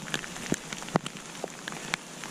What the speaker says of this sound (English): Actually, not at all. It's just rain.